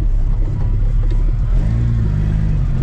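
Chevrolet Chevette engine accelerating on a rough, bumpy road, heard from inside the car: a loud, steady mid-pitched drone with a low rumble and a rising rev near the end.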